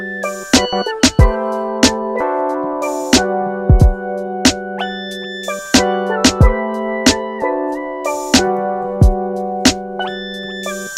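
An island-style beat programmed in Ableton Live 12 plays alone: bright plucked synth chords and melody over a steady rhythmic pattern with punchy percussion hits, looping evenly throughout.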